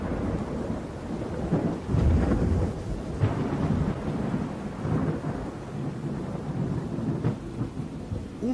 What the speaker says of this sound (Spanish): pude apreciar grandes tormentas rojizas en ese extraño firmamento oscuro